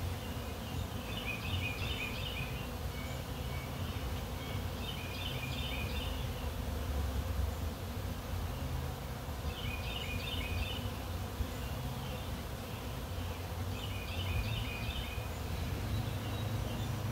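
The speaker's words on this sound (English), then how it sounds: "I'm hoping it's this nectar flow and there's just a lot of bees." Honey bees buzz steadily around a busy hive during a nectar flow, a dense continuous hum with no gaps, while faint bird calls come and go in the distance.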